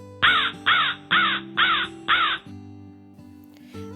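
A parrot lets out five harsh, raspy squawks in steady succession, loud and close, over a low hum, then falls quiet.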